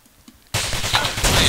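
A single loud gunshot fired at a soldier from behind barbed wire in Kunar, a sharp onset that gives way to sustained gunfire and battle noise.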